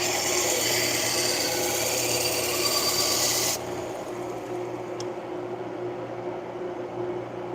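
A dull knife blade is ground on a heavy-grit sharpener, a loud continuous abrasive grinding with a steady motor hum that drops to a quieter, duller rasp partway through.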